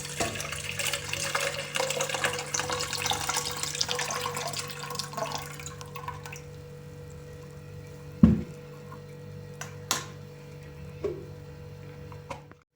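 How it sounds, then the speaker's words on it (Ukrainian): Water is drained from jars of cucumbers being pickled, pouring steadily for several seconds, then stopping, followed by a few sharp clinks and scattered drips in a quiet room. "Зливаємо воду другий раз."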